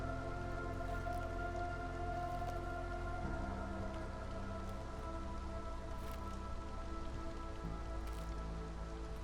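Steady rain falls throughout in the city-building video game Against the Storm, a constant even patter over a layered, droning ambient music bed, with no talk.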